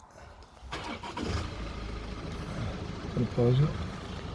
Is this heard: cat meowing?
no